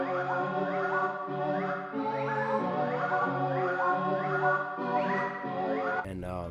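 A looped synth melody from an edamame sound in an Analog Lab bank plays as repeating bright, harmonically rich notes with gliding pitch rises, steady and loud throughout, shifting to a different tone in the final half second.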